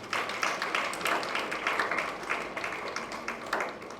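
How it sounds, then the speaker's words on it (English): A room full of people claps in sustained applause after a professor's talk on climate change leadership; dense, steady clapping fills the whole stretch without a break. "we want to give you a round of applause one more time"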